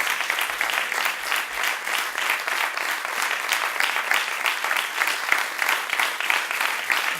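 Sustained applause from an audience at a forum on women's global alliances against violence, steady and dense throughout with no voices standing out.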